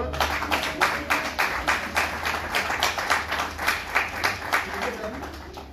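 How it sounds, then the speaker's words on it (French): An audience at a civil wedding applauds the witnesses with steady, rhythmic clapping, a regular beat of group claps in a moderately sized room, with a faint murmur of voices underneath. "Applaudissez pour les témoins."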